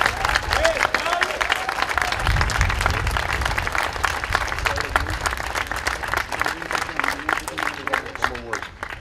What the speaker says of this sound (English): please give Joe and the members of the fire department a round of applause for what they did for this